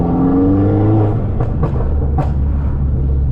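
A Mini Cooper S R56 with a TurboSmart blow-off valve fitted revs up from inside the car, its engine note climbing as it pulls, with a few short airy whooshes mixed into the steady, loud drone.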